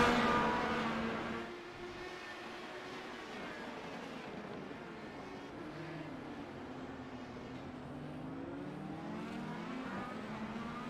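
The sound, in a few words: IndyCar race cars revving in a racing video game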